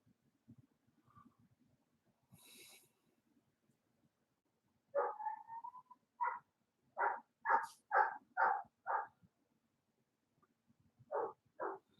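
A dog barks repeatedly at cows close to a house, a burst of sharp, fairly distant barks in quick succession with a short pause before two more, against a quiet rural background.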